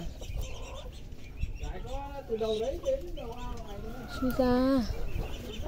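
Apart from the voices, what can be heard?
chickens clucking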